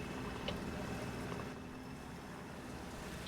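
Steady low engine drone of a sailboat motoring between Key West and Miami, with wind and water wash, continuous and fairly loud, with no speech.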